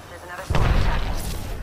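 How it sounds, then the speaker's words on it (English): A cannon fires in the Apex Legends video game, a sudden deep boom that swells into a sustained rumbling roar, close and loud. "I gotta use the cannon."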